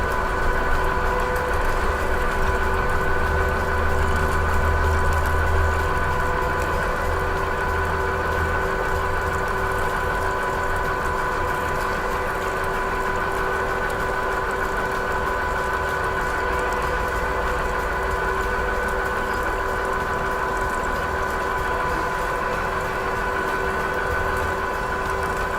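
A Ridgid 1224 threading machine runs with a steady, continuous mechanical hum and drone while cutting a tapered pipe thread, slightly louder for the first few seconds.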